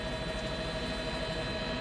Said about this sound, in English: The police helicopter's just arrived.